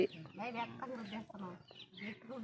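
Several chickens cluck close by outdoors beside a fishing spot, giving short throaty calls in uneven bursts that blend with nearby voices.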